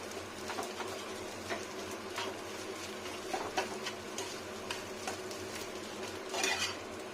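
Fish roe coated in turmeric fries in a pan with a soft, low sizzle. Frequent light scrapes and clinks of stirring sound against the metal, and a louder rattle comes near the end.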